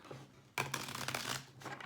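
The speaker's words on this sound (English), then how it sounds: "I want to give this first deck one more good shuffle" A deck of cards is riffled and shuffled close up, a quick burst of crisp flapping and rustling lasting about a second.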